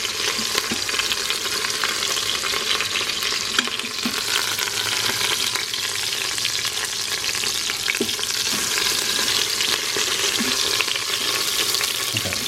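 Onions and food sizzle steadily on the saute setting of a DEENKEE 10-in-1 electric pressure cooker, a continuous close frying hiss with occasional stirring clicks and no talk.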